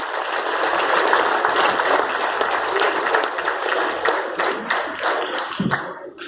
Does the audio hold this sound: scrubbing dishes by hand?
no